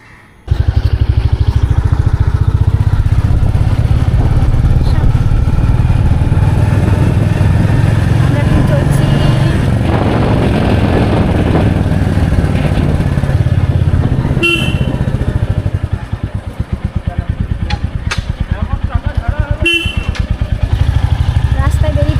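A new motorcycle rides along a road on a rainy day, its engine droning loud and steady throughout, with a couple of sharp horn toots from passing traffic near the middle and later on.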